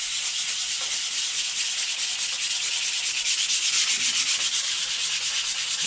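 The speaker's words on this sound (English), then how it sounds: "All I have is 220 grit, so that's what I'm using." A Jeep bumper is hand sanded with 220 grit sandpaper, giving a continuous, close, hissing scrape with gently pulsing circular strokes and no pauses.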